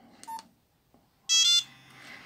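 Electronic ringtone tones from a Nokia 5210 mobile phone, a 2002 handset from Germany, playing a custom melody: a short beep, a pause, then a louder bright burst of synthetic tones.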